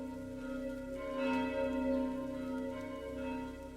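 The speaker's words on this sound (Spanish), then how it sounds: "El sonido de las campanas era un eco lúgubre que se extendía por el pueblo" Church bells ring at a distance, their deep overlapping tones swelling and fading slowly in a resonant wash with no voices.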